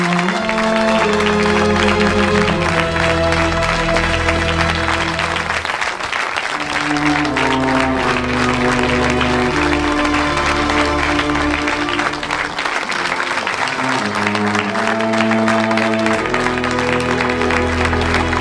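Cinema audience in Delhi applauding at a screening of The Kashmir Files, dense sustained clapping from a large crowd lasting many seconds, with music playing underneath.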